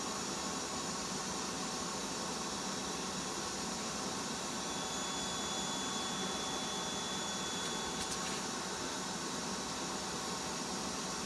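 Bee vacuum drawing a swarm from a 7-foot-tall hive into a box, a steady loud broadband whoosh of suction running unbroken throughout with no talk.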